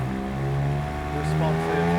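A Porsche 911 997.1 Carrera 4S with a Tiptronic gearbox drops from third to second gear, its steady engine drone shifting pitch as the revs change, heard from inside the car under a voice talking.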